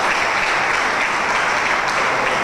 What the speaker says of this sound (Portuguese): também uma salva de palmas para ele já agora